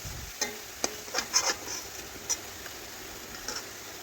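Kulekhara leaf fritters in gram-flour batter sizzle softly in hot oil as they are lifted out, with a low steady hiss and several light clinks and taps from the utensil; no voices.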